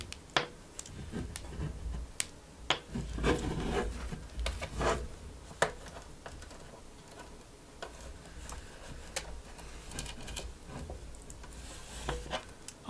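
A screwdriver works the case screws out of a fightstick enclosure, making sharp scattered clicks and scraping rubs at close range with no talking.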